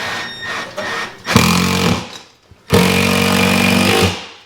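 A power drill or driver whirs as a screw is driven into the metal frame of a 120-inch 2.35 Cinescope projector screen, in two loud, close, sustained bursts separated by a brief pause.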